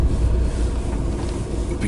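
A car rolls past on a narrow country road, a steady low rumble of engine and tyres close by with some wind noise and no talking.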